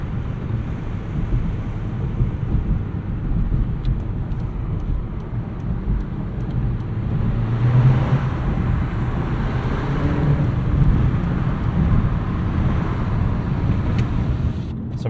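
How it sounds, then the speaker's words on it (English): A 2025 Volkswagen Jetta GLI with a manual gearbox driving in the city gives a steady, fairly loud low drone of engine and road noise. The turbo stays subdued and the tone holds even from inside the cabin. "Some turbo noise is just about all you get here in this package."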